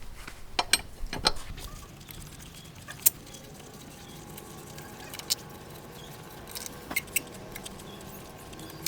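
Wheel bolts being loosened on a car raised on wooden blocks for a brake pad change, heard as scattered close metallic clicks and ratcheting knocks over a quiet background.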